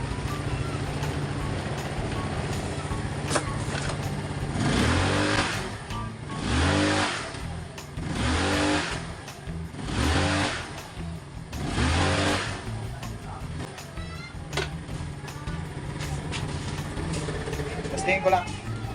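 A Mio Soulty 115 scooter with a misfiring, stalling throttle fault is revved in a test, the engine rising and falling in several repeated throttle blips over a steady idle, with someone talking over it.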